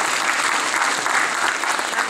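Audience applause at the launch of the Sai Navrang bhajan album, a continuous, lively clatter of many hands clapping at full strength for about two seconds, with no talk over it.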